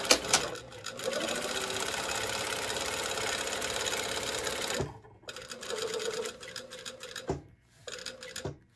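A sewing machine runs close and loud while sewing a blouse dart, stitching in a long steady burst, then in shorter stop-and-start runs separated by brief pauses.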